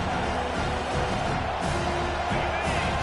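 A college football stadium crowd roars steadily and loudly on a big third down, a dense wall of cheering noise that holds for about three seconds with no break.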